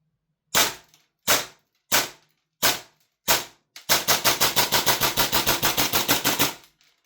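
A heavily customised airsoft MTR 16 rifle fires BBs from Strike Industries magazines: five loud, evenly spaced single shots, then a rapid full-auto burst of close, sharp cracks lasting about three seconds.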